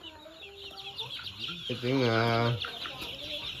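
White egg-laying hens about six weeks old cluck and call in a farm coop, with a few short bursts and one longer drawn-out call in the middle, close and moderately loud, while someone speaks briefly at the start.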